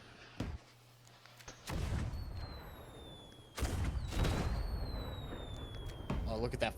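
A Megalodon firework in a looting video game bursts in three loud booms spaced a couple of seconds apart, trailed by high whistling streaks and crackle.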